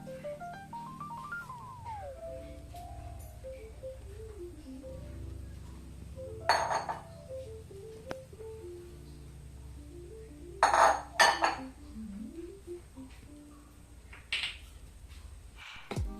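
Wheat flour, semolina and salt being mixed in a bowl, with sporadic clinks and scrapes of a utensil against the bowl, a few sharper bursts of clatter, over a soft melodic background tune.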